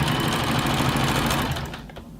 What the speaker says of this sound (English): I just let it sew, and then when I get an opportunity to pull, I put my hand behind and I stretch the elastic a little bit.